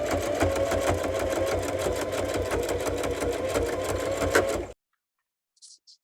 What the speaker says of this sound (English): It's always best to do the point, I think, with a regular sewing machine.